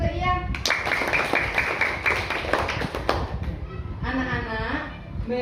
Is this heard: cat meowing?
no